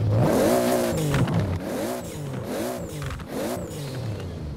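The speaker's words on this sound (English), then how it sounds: "it sounds exactly like the other 2JZ engine in the game" A Toyota 2JZ engine in the video game Forza Horizon 4 revs up repeatedly in several strong rising pulls, a deep, throaty roar close by with mechanical rattle underneath.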